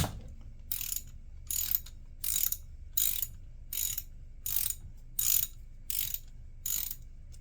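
A ratchet clicks in nine steady, evenly spaced bursts as it loosens the transmission fill bolt on a Suzuki Burgman 650 scooter, close and fairly quiet with no talking.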